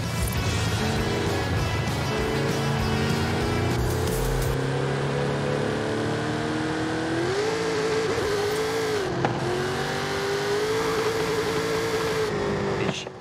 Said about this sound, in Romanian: Suntem din nou cu mașinuța noastră de drift.